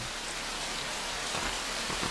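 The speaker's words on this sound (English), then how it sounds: "Got the rain coming in. This is horrible weather." Steady video-game rain falls as a dense, even hiss of drops, continuous and fairly loud with no pauses or other sounds.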